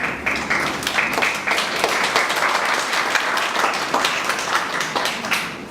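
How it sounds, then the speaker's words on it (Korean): Dense, lively clapping from a symposium audience welcoming an introduced guest, continuous and near throughout. "박수 부탁드립니다"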